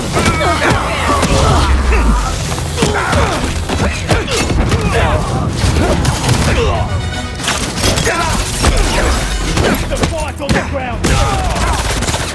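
Turret firing bullets in Spider-Man 2 during a rooftop fight with Hunters: continuous loud rapid gunfire with booms and shattering crashes, layered with music and shouted talk throughout.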